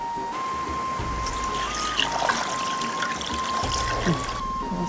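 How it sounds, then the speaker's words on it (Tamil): Water trickles and pours steadily into a basin as freshly cut fish is rinsed in a village kitchen, a soft continuous splashing with occasional louder spills and no talk. "இப்போ நம்ம வடிவா தண்ணி ஊற்றி ரெண்டு மூணு தண்ணியில் வடிவா நீட்டாக கழுவி எடுப்போனே"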